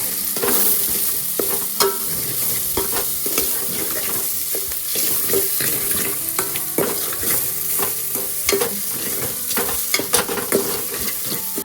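Onions mixed with masala fry in oil while being stirred, a close, continuous sizzle punctuated by frequent scraping clicks of the spoon against the pan, with no talk.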